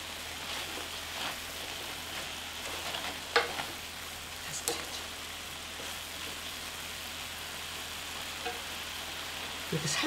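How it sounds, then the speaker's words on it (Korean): Seasoned cooked greens are stir-fried briefly in a pan with a little perilla seed powder, giving a soft continuous sizzle with faint scraping stirs and a few light knocks, fairly quiet and without speech. "이렇게 살짝 들깨가루 넣고서는 한 번만 볶아주면 돼요"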